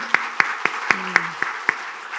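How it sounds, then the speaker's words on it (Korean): Scattered hand claps from a church congregation during a Sunday service, about seven sharp separate claps spaced across two seconds over a faint steady hum, sparse rather than a full ovation. "다시 한번 우리 학생들에게, 우리 자녀들에게 박수 한번."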